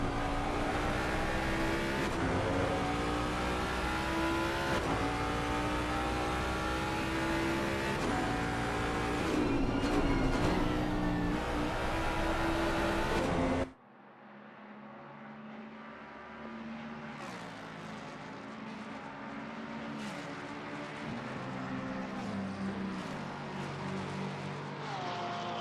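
Race cars thunder past at Bathurst in a racing video game, a three-car pack fighting for position, with loud sustained engine roar and shifting revs that drop sharply midway to a more distant, thinner drone of cars still running nearby.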